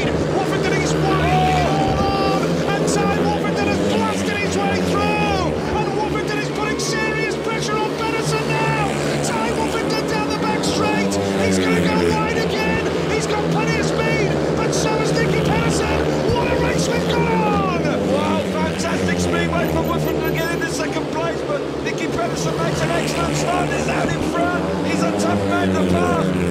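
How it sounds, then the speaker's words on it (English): Speedway motorcycles race on a track, their engines a continuous high, wavering drone that persists throughout beneath a commentator's excited voice. "Pedersen looking good on his home track, out in front, a lap to go"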